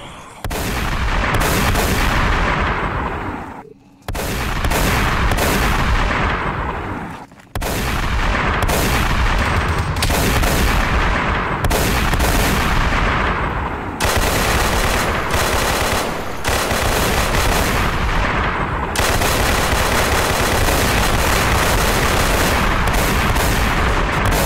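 Heavy gunfire from a DayZ firefight rattles almost nonstop in loud, dense bursts, with a couple of short breaks between the volleys.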